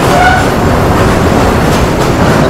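A freight train of coal wagons rolls past close by with a loud, continuous rumble and the rattle of the wagons, holding steady with no break.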